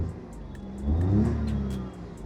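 A Maruti Swift LXI petrol car, the 2026 base model, heard from inside the cabin while driving. Its engine hum swells and rises in pitch as it accelerates, then eases back to a steady, moderate drone.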